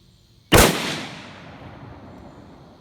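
A single sharp report from a Mossberg MVP LR rifle in 7.62x51 .308, loud and close, followed by a long fading echo rolling out across an open range.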